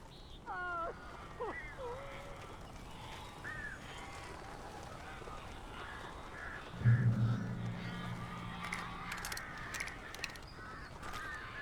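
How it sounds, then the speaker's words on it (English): Several crows caw in Alan Wake, harsh repeated calls near the start, then a low droning rumble and a flurry of wingbeats and scratchy bird noise toward the end. "These birds are weird."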